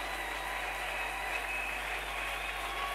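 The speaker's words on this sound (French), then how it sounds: "Acclamer pour le Seigneur dans la salle." A church congregation applauding and cheering for the Lord, a steady dense wash of clapping that stays loud and even throughout with no speech.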